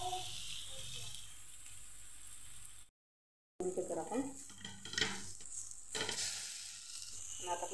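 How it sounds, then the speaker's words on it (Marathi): Pomfret fish fry in oil in a pan with a bright, steady sizzle, broken by a brief cut, then stirring and utensil clatter over continued frying. "इथे मी सगळे मासे तळून घेतले।"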